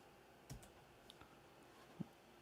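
A handful of soft, sparse keystrokes on a computer keyboard during a web design session, quiet and close with short gaps between the taps and no voices.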